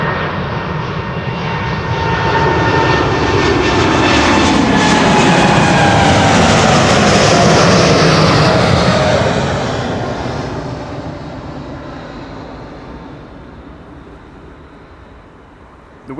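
A jet airliner departing Schiphol Airport roars loudly overhead, swelling to a sustained peak, then fades into a long distant rumble as it climbs away.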